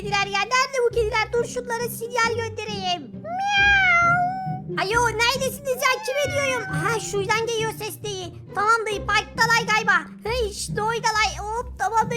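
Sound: cat meowing in video game Minecraft

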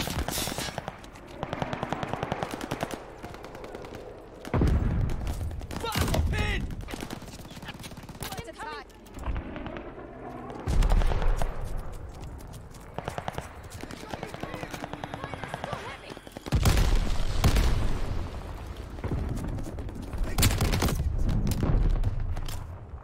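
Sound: grenade explosion in Call of Duty: Vanguard video game

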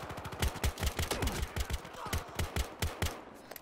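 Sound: gunfire in video game Battlefield Hardline

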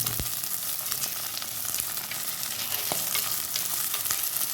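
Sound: stirring frying ingredients with curry leaves in pan

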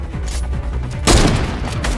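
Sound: minigun gunfire in Fortnite video game

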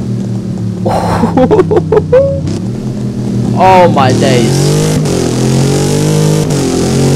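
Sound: car engine grumble and downshift in the video game Driving Empire

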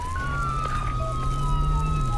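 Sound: police car siren, from video game Flashing Lights

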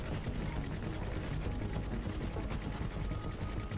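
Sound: gunfire from a gun in The Finals video game

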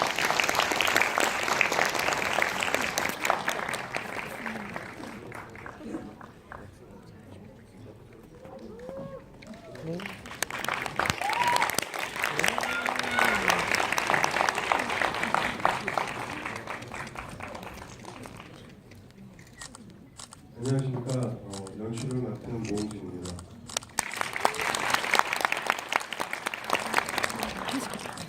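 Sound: audience applause welcoming film director and actors

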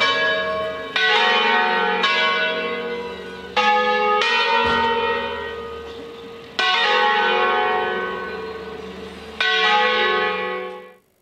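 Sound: church bells ringing

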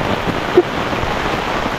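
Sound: rain falling

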